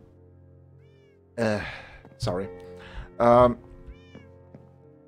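Cat in the block-building game Minecraft gives a few short, close meows separated by pauses over a quiet background hum, with a brief spoken word nearby.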